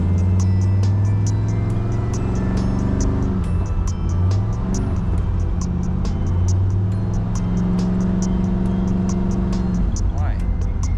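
A 1965 Ford Galaxie with a fault that keeps it from shifting into higher gear drives with a loud, steady drone held in one gear, its pitch rising and falling, plus a regular ticking and someone talking over it.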